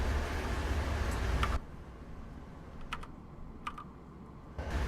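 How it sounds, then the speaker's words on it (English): Computer keyboard keys click and tap at a desk while controls for a train simulator game are operated, a few light isolated keystrokes over steady background hiss, the first and last moments louder and muddier. "I'm going to use the keyboard controls for this"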